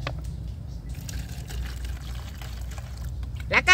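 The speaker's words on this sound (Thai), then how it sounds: "แล้วก็ใส่น้ำให้พอมิดรากอะจ้ะ" Water pours steadily into a container to cover a plant's roots, a soft continuous trickle close by, with a brief louder splash near the end.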